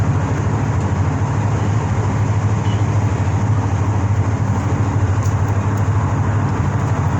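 Steady low road rumble and engine drone from inside a moving car, continuous and fairly loud throughout with no talking.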